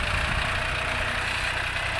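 A John Deere 5065E tractor engine idles close by, giving a steady, dense low rumble with constant vibration and no voices.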